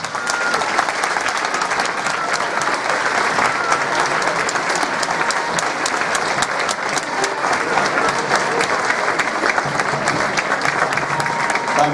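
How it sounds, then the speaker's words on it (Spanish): A large audience applauds the Tazacorte municipal music band at a Santa Cecilia recognition ceremony, dense continuous clapping that holds steady and loud throughout with a faint crowd murmur underneath. "Fuerte aplauso y reconocimiento para la Banda Municipal de Música de la Villa y Puerto de Tazacorte."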